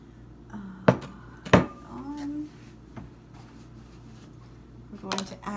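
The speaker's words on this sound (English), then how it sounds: "in this bowl, we're going to put our 2 eggs in" Two eggs are cracked into a mixing bowl for a homemade triple chocolate cake, giving a few sharp knocks and light clinks against the bowl and then a soft wet slide, close and fairly quiet.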